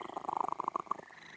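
A cat purrs in a video game, a fast rhythmic rumbling pulse with a brief meow-like tone over it, close and steady for about a second before fading.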